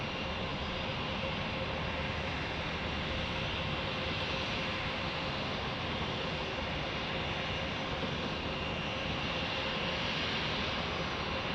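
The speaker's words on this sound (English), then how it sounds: "American A321 is lining up" An American Airlines Airbus A321 lining up on the runway hums with a steady, faint, far-off jet engine drone and a faint tonal whine that holds without change throughout.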